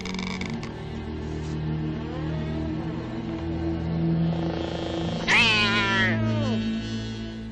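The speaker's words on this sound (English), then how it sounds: "Just a cat." A cat lets out a loud, drawn-out, wavering meow that rises and falls over a low engine hum, after a quieter meow-like creak earlier on.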